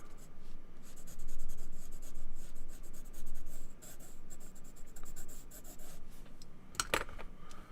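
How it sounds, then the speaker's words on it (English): Steady scratchy graphite strokes of a 2H pencil shading on paper, rubbing back and forth in close, continuous passes with a brief sharper scrape near the end. "I'm going to switch back to a 2H pencil and start to grab some of this back here."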